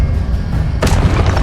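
An Expelliarmus disarming spell hits with a sudden loud, close blast over a low rumble of magical ambience, followed by a brief crackling burst.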